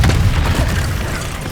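Incendio fire spell cast in the Hogwarts Legacy video game: a loud, deep rumbling burst of flame that roars steadily for about a second and a half, heaviest at the start and then easing slightly.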